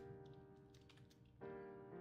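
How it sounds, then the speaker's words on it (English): Typing on a computer keyboard while coding in the Godot game engine, a run of soft irregular clicks over a steady electronic hum, growing slightly louder near the end. "It's just I'm typing it poorly."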